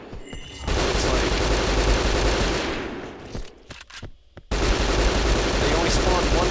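Sustained, dense gunfire from enemies in the video game Hunter: The Reckoning, loud and continuous, briefly dropping to scattered shots before resuming at full intensity.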